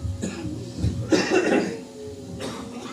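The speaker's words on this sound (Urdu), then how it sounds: "سوری اگر کھانسی آ گئی مجھے" A few rough coughs in quick succession, fairly close, with a throat-clearing quality and no speech around them, from a person with a sore throat during a church Christmas message.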